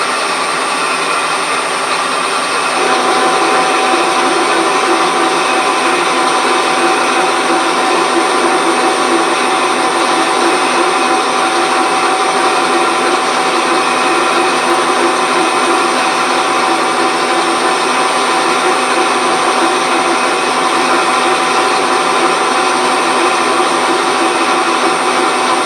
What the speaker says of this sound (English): Running about 175 revs at 6 thou per rev on the feed.